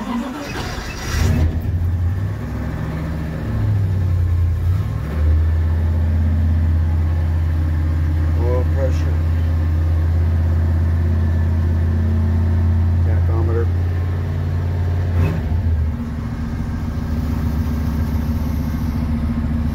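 A 1950 Dodge B2B hotrod resto-mod cranks and fires on a cold start in a garage, then settles into a loud, lumpy low idle with a few blips and revs, close up, with occasional brief voices over it.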